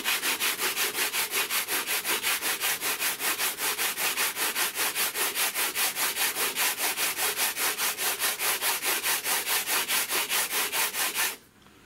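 A hand tool works across a sheet of FR4 G10 laminate in fast, even rasping strokes, dozens of regular back-and-forth rubs up close before stopping abruptly at the end.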